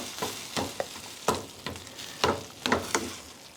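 Spoon stirring homemade tomato spaghetti sauce in a pot, with a freshly added pint jar of tomatoes and plenty of juice; a series of close, sharp scraping and sloshing strokes in an uneven rhythm, with no talking.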